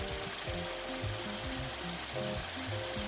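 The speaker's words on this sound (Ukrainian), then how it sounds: "Потроху система закачує собі газ трохи підкачало." Car air-conditioning system drawing in refrigerant gas during a recharge: a quiet, steady hiss with faint rhythmic mechanical clicking running throughout, with no talking.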